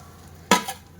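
Guar beans tipped into a hot pan of roasted spices, giving a loud burst of sizzling that fades over half a second, then a second sharp sizzle as stirring starts; no talking.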